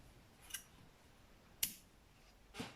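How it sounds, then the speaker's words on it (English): Scissors snip yarn during a crochet project, giving three brief, quiet cuts spaced about a second apart against a soft background. "cut the yarn"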